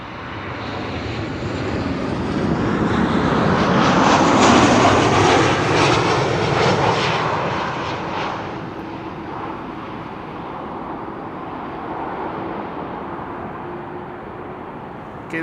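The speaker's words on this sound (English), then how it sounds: "arriving from Milan, landing here 737-800 with a carry-on cabin in the back." A KLM Boeing 737-800 jet arriving from Milan lands at Amsterdam Schiphol, its engine roar swelling broad and loud as it passes nearby, then easing to a steady, fading rumble.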